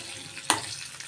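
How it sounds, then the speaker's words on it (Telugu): Asafoetida and a broken dry red chili temper in hot oil, a soft continuous sizzle marked by one sharp crackle, quiet and close. "ఇప్పుడు ఈ పోపు దోరగా వేయించుకున్నాం"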